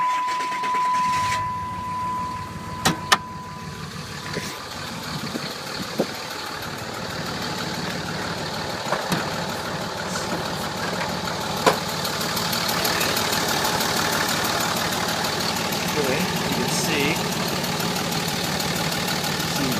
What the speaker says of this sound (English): Let me fire it up and I'll let you listen to it under the hood.